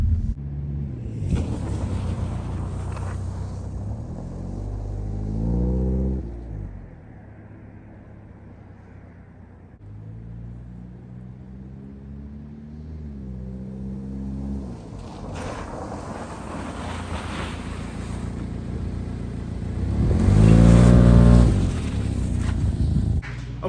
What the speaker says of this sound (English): I'm gonna do a couple drive by the camera, hit the brakes, and make sure